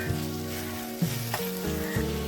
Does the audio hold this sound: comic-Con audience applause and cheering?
no